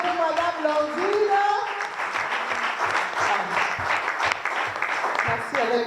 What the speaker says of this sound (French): Acclamons très fort pour Madame Blandine.